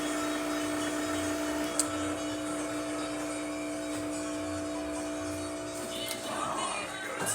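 A Quick Mill espresso machine pulls a test shot after a full tune-up, its pump giving a steady, close hum with layered tones for about seven seconds before a slight rush of liquid near the end.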